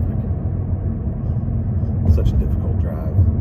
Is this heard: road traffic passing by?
yes